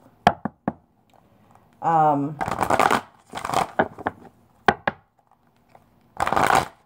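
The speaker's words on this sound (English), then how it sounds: "And I shuffle for a long time, and I'm able to channel during that shuffle." Tarot cards being shuffled at length in short riffling bursts and soft taps, broken by brief pauses, with a person speaking quietly in between.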